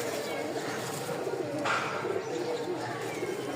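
Rajshahi Giribaz pigeons coo softly outdoors in low repeated murmurs, mixed with background voices and steady ambient noise.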